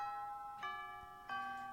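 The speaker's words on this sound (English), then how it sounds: "Ah, that's the bell." A school bell chimes in two clear, ringing tones about two-thirds of a second apart, each note sustaining and decaying gently in a quiet room with no talking.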